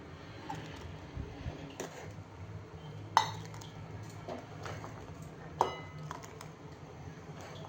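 Tomato varan (dal) served with a ladle: a few sharp metallic clinks of the ladle and utensils against a pot, two of them stand out, over low kitchen background with no talking.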